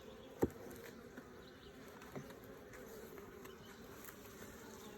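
Carniolan honeybees hum in a faint, steady drone during a hive inspection, broken by a sharp handling click early on and a softer knock midway.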